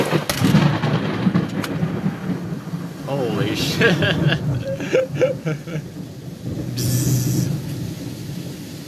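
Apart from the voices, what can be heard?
thunder and heavy rain in a thunderstorm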